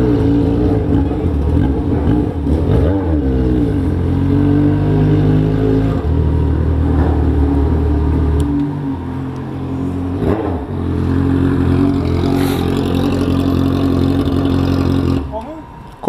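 Yamaha XJ6 motorcycle with an Atalla 4-into-1 exhaust and the fan removed, engine revving repeatedly up and down at close range, loud and raspy, cutting off near the end.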